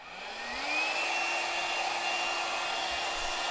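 A hair dryer runs steadily, drying thick paint laid on with a palette knife for a textured orchid painting; the motor hum rises in pitch as it spins up, then holds a constant close, even whir.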